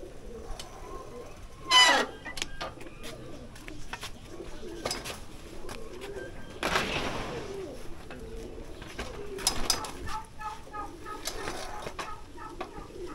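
Pigeons cooing at a picnic spot in the Sundarbans area, soft low coos recurring among nearby chickens and outdoor background noise, with a few louder knocks and rustles.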